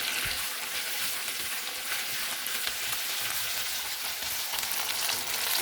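Gongura (sorrel) leaves stirred in hot oil in a pan for chutney, a steady loud close sizzle with bursts of crackle that runs the whole time, with no voices.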